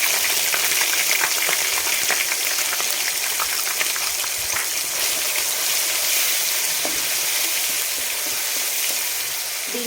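Onion paste sizzles and fries steadily in a hot pan for capsicum curry, a loud, continuous close-up crackle with faint stirring scrapes and no talk.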